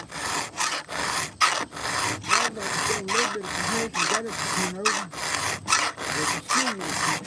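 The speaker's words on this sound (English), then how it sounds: "Just doing a tailgate chainsaw chain sharpen session." A file rasps against a chainsaw chain during a tailgate sharpening session, producing steady, evenly spaced back-and-forth strokes, close and fairly loud, with no talking.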